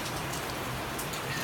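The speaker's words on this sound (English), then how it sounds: "It just won't stop raining." Steady rain falling outside a converted bus home, a dense continuous patter of drops on surfaces, even and unbroken throughout.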